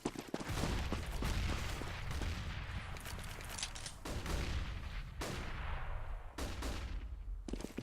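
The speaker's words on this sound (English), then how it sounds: "That is a lot of flashbangs." Counter-Strike match audio carries repeated sharp bangs and bursts of gunfire, with several loud broadband blasts from flashbang grenades cutting through a dense, busy rumble of game action.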